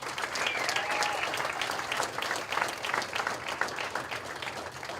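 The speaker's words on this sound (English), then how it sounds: "I want to give them another round of applause." A room of mourners at a celebration-of-life memorial applauds, a full crackling round of clapping held for about five seconds, close and steady with faint crowd murmur beneath.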